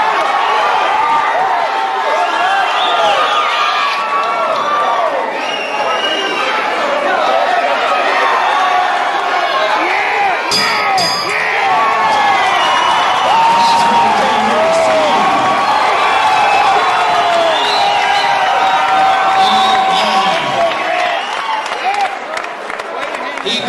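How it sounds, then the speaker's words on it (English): A fight-night crowd cheers, whoops and applauds continuously between rounds of a boxing bout, a dense loud roar of many voices with scattered shouts throughout. "Keep the cheering going out there"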